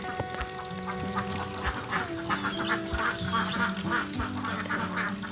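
Laying ducks in a semi-intensive pen quack repeatedly in an overlapping flock chorus, loud and close, with a few deeper honking calls mixed in.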